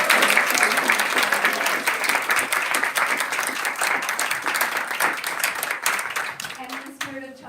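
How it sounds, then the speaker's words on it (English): An audience at a Bhagavat Sravana gathering breaks into loud, sustained applause welcoming Keshav Swami, the dense clapping thinning and fading out near the end. "Please give a big round of applause"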